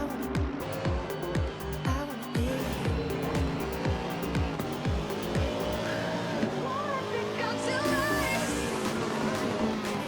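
Race cars in Assetto Corsa braking into a corner and overtaking, engines revving and downshifting in repeated sharp bursts with tyre noise, loud and continuous under a commentator's voice.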